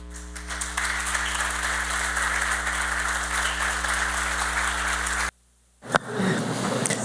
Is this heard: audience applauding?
yes